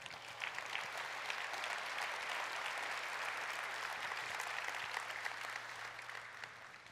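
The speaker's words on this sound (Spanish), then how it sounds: "Fuerte el aplauso para Él." A church congregation applauds during a Spanish-language homily, a steady wash of clapping heard from a distance over a faint low hum, fading slightly toward the end.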